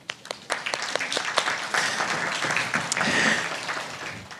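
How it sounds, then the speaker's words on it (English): An audience at an awards ceremony applauds steadily, a dense, fairly loud wash of many hands clapping that carries on through the whole stretch. "I applaud you."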